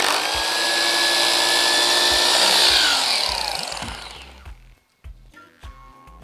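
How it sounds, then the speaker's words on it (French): An electric drill whirs loudly as its bit is backed out of a wooden batten during wall paneling installation, the motor winding down after a few seconds, followed by a pause and several sharp taps and knocks. "C'est quand je vais sortir la mèche, il faut la sortir sans déplacer le tasseau."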